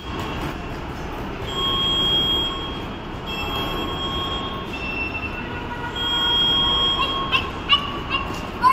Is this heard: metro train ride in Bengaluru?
yes